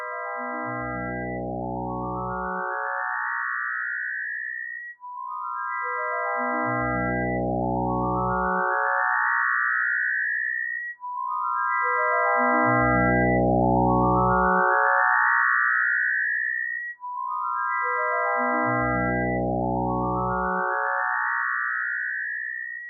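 Cyclic electronic tones built on harmony 0 1 4 6 8 change timbre as stacked partials enter one by one and glide upward, forming four identical loud cycles of about six seconds each with no talk.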